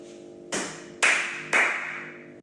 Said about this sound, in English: I'll do the 3 claps.